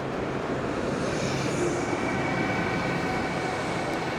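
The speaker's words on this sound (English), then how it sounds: "this is our train to Warsaw, we hope" Steady rumbling mechanical drone of a train leaving Berlin for Warsaw, continuous and fairly close, with broadband noise filling the whole stretch and no voices.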